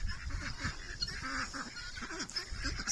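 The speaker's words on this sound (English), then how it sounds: "Some more ducks." Ducks and geese at a poultry farm honking and calling repeatedly in overlapping bursts, fairly close, over outdoor background noise.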